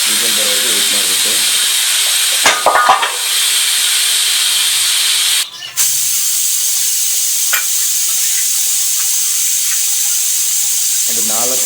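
Pressure cooker whistling on the stove while sprouted horse gram sambar cooks, a loud continuous high steam hiss broken by two short sputtering bursts, with brief talk near the end.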